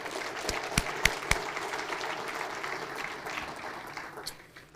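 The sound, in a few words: audience applause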